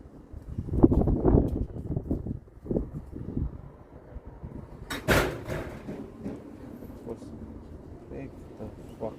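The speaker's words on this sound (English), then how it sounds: "Listen to this fucking wind" Strong gusts of wind buffet the microphone outdoors during an oil change on a Vauxhall Mokka 1.7 CDTi 4x4, rumbling in uneven surges, with people talking in the clip.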